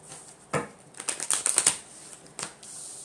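Tarot cards are handled and shuffled close by, with a quick burst of crisp riffling flicks in the middle and a few isolated card snaps before and after, without any talking.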